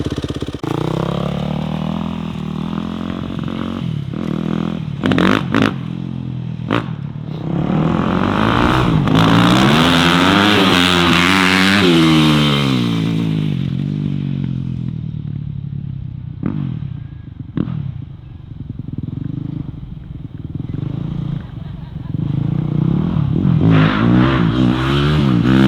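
An Arctic Cat machine fitted with a Whalen tune and Ibexx clutch revs hard during a ride, its engine climbing and falling through loud, close throttle bursts with rattling clatter, easing off briefly before surging again.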